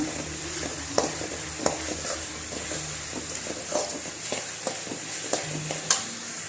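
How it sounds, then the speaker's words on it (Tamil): Onion and tomato sautéing with turmeric in a pan for village-style fish curry: a continuous sizzle with a scattering of sharp clicks and scrapes from stirring, close and fairly loud, with no talking. "அதோட கொஞ்சோண்டு மஞ்சத்தூள் சேர்த்து நல்லா வதக்குங்க."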